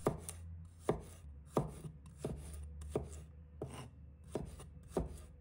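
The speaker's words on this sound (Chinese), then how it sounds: "再准备1块生姜，把它切成丝。 几个大蒜，把它切成片。" A knife chops ginger into shreds and slices garlic on a board, eight sharp, evenly spaced thuds sounding close and alone.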